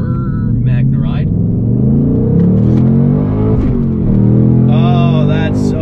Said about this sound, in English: Oh, that's so glorious. The sport exhaust.